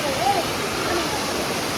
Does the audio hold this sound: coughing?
no